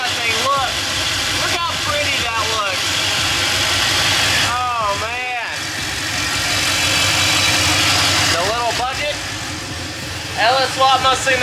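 LS V8 engine swapped into a Mustang with long tube headers, a loud, rumbling idle running steadily throughout while people talk over it.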